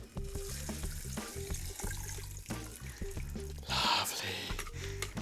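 Mango rum cocktail made with Dead Man's Fingers rum, strained into a glass over crushed ice: a soft liquid trickle and dribble with light clinks and knocks, and a brief louder pour near the end.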